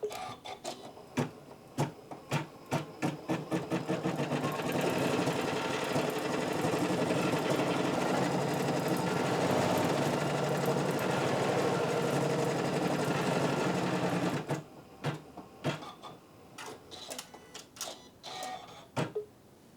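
A Janome CM17 sewing machine stitching a built-in embroidery design, running in a long continuous whirring hum of about ten seconds, framed by rapid clicks and taps as it starts and stops, close and clear.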